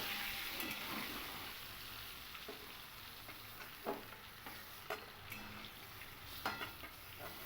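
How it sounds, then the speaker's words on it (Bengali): Pointed gourd (potol) fries in oil in a wok, a steady soft sizzle with occasional louder spatters and stirring clicks, fairly faint and with no voices. "ভাজতে ভাজতেই যেন পটলটা সিদ্ধ হয়ে যায় সেই রকমভাবেই পটলটাকে আমি ভেজে নেব"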